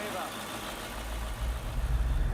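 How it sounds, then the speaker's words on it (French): A powerful 1300-horsepower airport aircraft tug rumbles with a deep, steady engine drone, swelling into a heavier throb, while a narrator speaks over it. "Le rugissement des moteurs"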